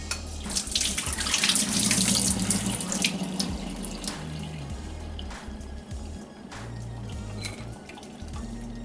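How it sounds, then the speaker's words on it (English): Water from boiled potatoes pours steadily out through a strainer into a kitchen sink, a continuous close splashing rush with occasional drips and no talking. "Now I'll strain the water and then put the potatoes back in the bowl."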